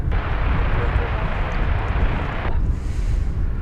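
An American Airlines airliner arrives at DFW Airport on the east side, its engines a broad, rumbling roar with wind buffeting, the upper hiss cutting away near the end.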